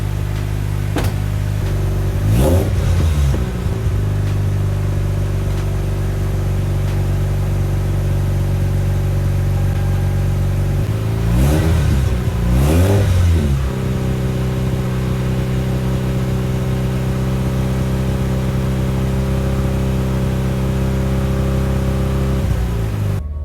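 A Mazda RX8 rotary engine warming up after new spark plugs sits at a loud, steady idle, then revs in two short bursts around a third and then about halfway through, settling back to idle each time.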